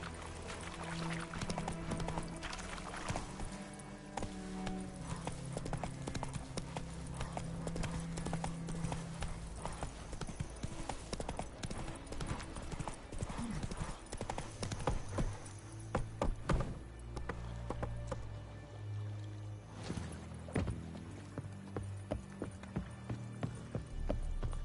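Horse hooves clip-clop steadily in The Witcher 3 as the mount trots along, a continuous rhythmic clatter of hoofbeats over game music and ambience.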